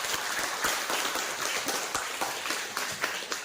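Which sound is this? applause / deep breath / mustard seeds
applause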